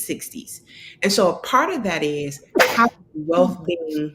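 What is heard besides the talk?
sneeze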